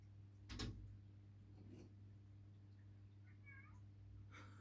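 A cat meows from outside a door in a quiet room, one short cry near the start followed by fainter sounds, with a low steady hum underneath and a brief knock or click at the very end.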